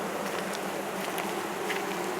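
Honey bees buzz continuously around an opened hive during a beekeeping inspection, a steady, fairly close droning hum with no talking.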